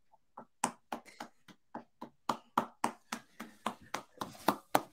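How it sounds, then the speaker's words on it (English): A single person claps hands in a quiet room, about twenty sharp, separate claps at an uneven, quickening pace, close and crisp with nothing else behind them. "I'm on my feet applauding, mate"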